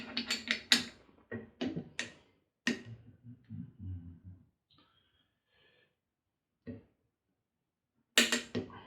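Screws being driven back into a Pearl Demon Drive direct-drive bass drum pedal, close, sharp ratcheting clicks in short clusters separated by quiet pauses.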